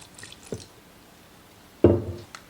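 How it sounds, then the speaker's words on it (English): Red wine is splashed into a meat pie filling of carrots, onions, tomato paste and meat, a short faint drip followed by a louder, brief pour and splash, close and quiet otherwise. "A splash of red wine."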